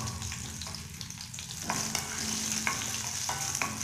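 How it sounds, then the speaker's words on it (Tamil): Bay leaf, cloves, cardamom and cinnamon sauté in hot oil for a chole and bhatura dish, giving a steady close sizzle with the scrape of a stirring spoon now and then, and no voices. "சேர்த்து வந்து நல்லா வதக்கி விட்டுருவோம்."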